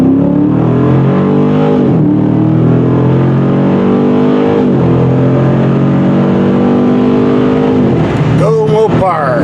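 A 2023 Dodge Challenger 392 accelerates hard, its loud engine note climbing through several gear changes, each shift dropping the pitch before it rises again. A voice is heard briefly near the end.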